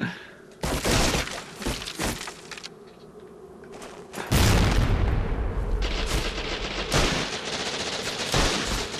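Repeated bursts of rapid gunfire come from an Xbox Medal of Honor: European Assault farmhouse battle, loud and close. Machine-gun rattles and sharp shots alternate with brief lulls, and a heavy, sustained barrage starts midway and keeps going.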